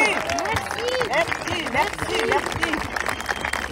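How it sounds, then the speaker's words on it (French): A crowd of citizens at a public event in Nancy, France applauds, a dense patter of clapping running throughout, with a voice speaking over it. "Vous pouvez vous applaudir vraiment très fort"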